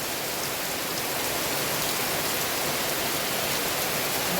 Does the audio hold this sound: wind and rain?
yes